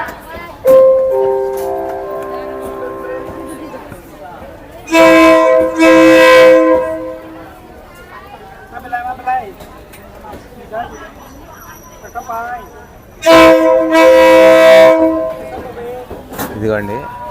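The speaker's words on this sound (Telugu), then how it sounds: "열차가 들어오고 있습니다." A train pulls into the Mae Klong railway market near Bangkok, with repeated horn blasts over a busy market. Bilingual Korean and Thai platform announcements play between the blasts.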